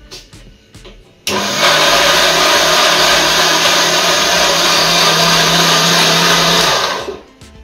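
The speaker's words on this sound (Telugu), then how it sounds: "కాస్తంత సాల్ట్ కూడా వేసుకొని ఇంకోసారి మిక్సీ చేసుకుంటున్నాను" A mixer grinder blends batter with sugar and salt, starting abruptly into a loud, steady high whirring drone that holds for about six seconds before cutting off, with faint kitchen sounds before it.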